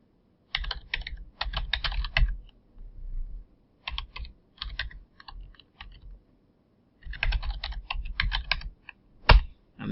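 A username is typed on a computer keyboard in quick bursts of close, crisp keystrokes separated by short pauses.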